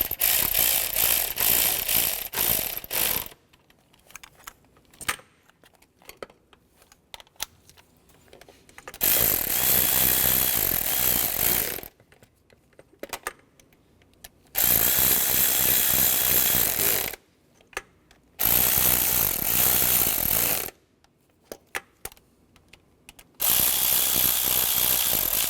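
Ratchet wrench snugging down intake manifold bolts on a 2011-2015 Chevy Cruze, loud close clicking in four long bursts split by quiet pauses, with no talking.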